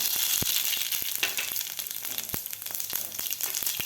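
Half a spoon each of mustard seeds and cumin sizzle and crackle in hot oil while making sweet corn poha, a steady hiss broken by sharp, scattered pops of bursting seeds.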